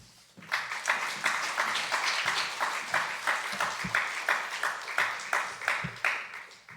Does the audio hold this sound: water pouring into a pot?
no